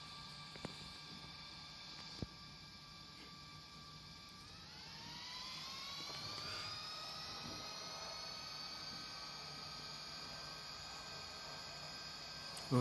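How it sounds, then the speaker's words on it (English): Jet engines of a Vietnam Airlines A320neo spooling up for takeoff in a flight simulator game, a steady whine that rises in pitch and then holds, fairly quiet with low rumble beneath and no talking. "this is our takeoff out of Catby International Airport"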